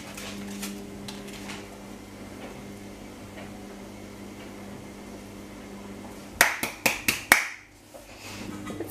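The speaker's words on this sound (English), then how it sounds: "Let's give it a bit of a stir." A spoon stirs slow-cooked chilli of mince and kidney beans in a pot, a low steady hum underneath, then a quick run of sharp metallic clinks and scrapes against the pot.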